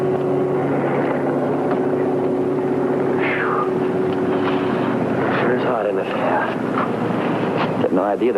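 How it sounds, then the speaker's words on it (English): Several small patrol planes of a 1951 sheriff's aero squadron drone steadily overhead in a radio drama sound effect, a continuous engine hum with wind, mixed under a voice and music. "a half dozen planes from the Sheriff's Aero Squadron continued patrolling the entire area."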